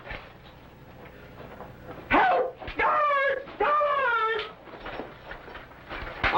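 A small dog yips, whimpers and barks in short bursts amid a noisy old-fashioned chase scene, with faint voices and background clatter around it.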